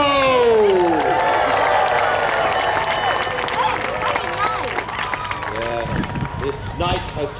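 Crowd cheering and applauding at a medieval jousting show as a knight is announced, loud and sustained with whoops and shouting voices, easing slightly toward the end while chatter continues.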